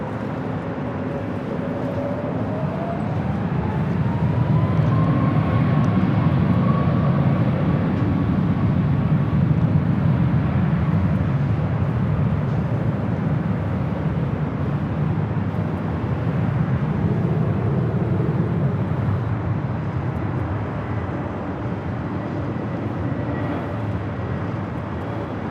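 A Frontier Airlines Airbus A320neo arriving at Los Angeles International Airport produces a loud, sustained jet roar whose rising whine peaks midway and then eases off slowly. No one speaks.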